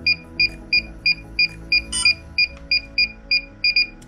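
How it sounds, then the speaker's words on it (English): A DJI Avata drone controller beeps steadily while pairing, about a dozen short, evenly spaced, clear electronic tones close by, with no talking. "hold the power button and you'll hear it start to beep"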